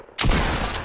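A single loud, close shotgun blast in a building-and-shooting video game, with a sharp onset and a long, dense roar that fills the rest of the moment.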